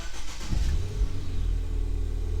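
Ford Fiesta ST engine, just fitted with new boost pipes, cranking briefly and catching, then settling into a steady, close, rumbling idle.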